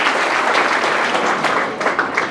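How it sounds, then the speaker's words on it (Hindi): Enthusiastic applause from an audience, a continuous wash of clapping that holds steady, then thins slightly toward the end. "इनका भी जोरदार तालियों के साथ स्वागत कीजिए।"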